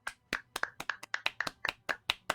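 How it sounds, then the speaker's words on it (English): An audience claps for the blue team after an epic comeback at a gaming match. The claps are sharp, fairly quiet and spaced steadily, like only a few hands. "Clap for blue team, please."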